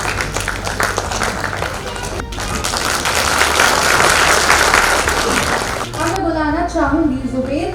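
A crowd at a rural journalism awards ceremony breaks into loud, continuous applause for an honoree, a thick roar of clapping that swells and fades before a voice begins speaking over the hall.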